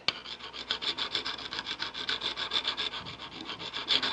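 A wood carving tool is honed on its inside bevel with a little oil, making a quick, rhythmic rasping rub of even back-and-forth strokes, close and fairly quiet with no voices.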